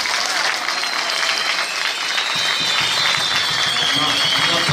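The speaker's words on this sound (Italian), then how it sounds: "Ma un applauso ci vuole sotto." A theatre audience at a small local talent show claps steadily after a performer's recitation, dense sustained applause that stays loud and even throughout.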